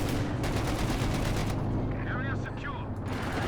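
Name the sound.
tank cannon shot killing a Panzer IV, from a video game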